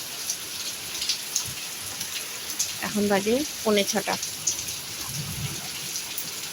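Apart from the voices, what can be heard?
heavy evening rain falling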